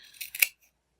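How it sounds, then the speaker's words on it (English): Scissors snip fabric strips for the tail of a cross-stitched hen, three quick close cuts in a row, crisp and quiet, followed by silence. "carefully take your scissors and you're just cutting"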